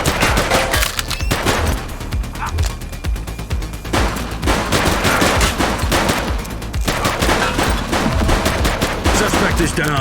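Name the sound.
police gunfire in the video game The Precinct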